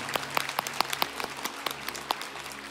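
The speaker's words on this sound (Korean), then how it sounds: "제가 축복의 박수를 올려드립니다" Light applause from a church congregation during a service, with scattered individual claps standing out over a soft background of clapping, fairly quiet and somewhat distant.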